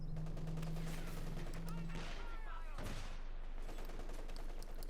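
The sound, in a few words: sniper fire in Company of Heroes 2 video game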